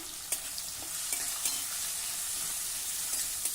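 Spiny gourd (kantola) with salt and turmeric is stirred in a pan, a close hissing sizzle with repeated light spatula knocks and scrapes, no voices.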